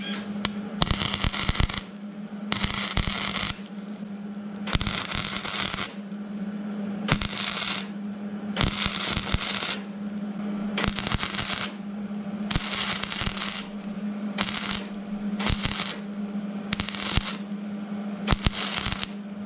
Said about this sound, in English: there you get a better look at welding one of these original factory spot welds back shut